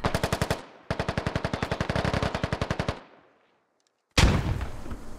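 Rapid automatic gunfire in a military shooter video game, two long bursts of evenly spaced shots that stop briefly, then a loud single blast or burst near the end, with no talking.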